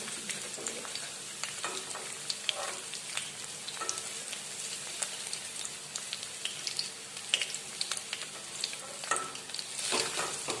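Paneer fries in oil until browned, a close, busy sizzle broken up by scraping and stirring clatters from the pan, with no voices.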